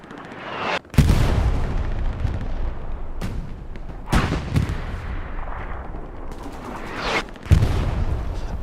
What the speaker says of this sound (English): Refuse artillery is just peppering Grandma's house directly south of WN4